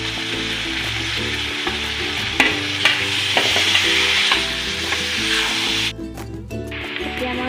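Boiled jackfruit pieces fry in a hot pan with a steady loud sizzle, while a spoon stirs and scrapes through them in repeated strokes up close, the hiss briefly dropping near the end.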